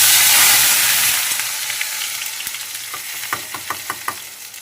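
Cut mutton pieces dropped into hot oil, starting with a loud hiss and steady frying sizzle that settles into a quieter bubbling with occasional pops and crackles, close by.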